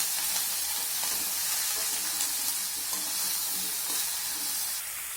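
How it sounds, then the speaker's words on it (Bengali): Ridge gourd stir-fries in oil over a high gas flame, giving a soft, continuous hissing sizzle with faint stirring sounds, moderately quiet and without speech. "গ্যাসের ফ্লেমটাকে বাড়িয়ে দিয়ে আমি চিচিঙ্গাটাকে একটু নাড়াচাড়া করে ভেজে নেব।"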